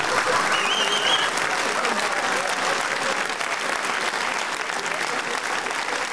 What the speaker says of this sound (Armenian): մի անգամ էլ ծափանեք